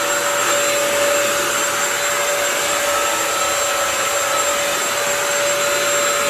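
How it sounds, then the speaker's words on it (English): A Bissell Crosswave vacuum cleaner runs close and loud, holding an even, constant high whine with a steady airy roar. "Just vacuuming up the pit here."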